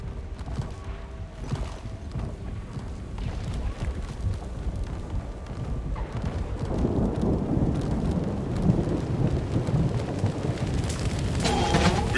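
A thunderstorm rumbles in Guild Wars 2 over the town of Garenhof, steady rain and low rolling thunder building louder in the second half, with no voices.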